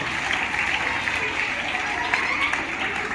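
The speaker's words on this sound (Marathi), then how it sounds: "टाळ्या वाजवायच्या आणि स्वागत करायचं" Audience at a Marathi comedy play promotion claps steadily to welcome actress Nayana Apte, a continuous wash of applause with voices mixed in.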